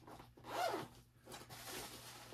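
Close rasping pulls of a zipper opening a padded bass guitar gig bag, a couple of brisk strokes with a short pause between them.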